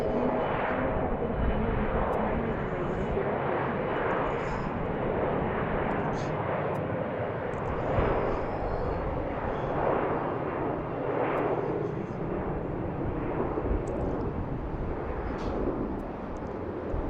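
A departing American Airlines plane at BWI airport gives a steady, loud, broadband jet roar that holds without a break throughout.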